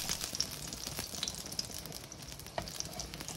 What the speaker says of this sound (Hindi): तो चलिए, जो आखिरी बैच है वो भी हम फ्राई कर लें।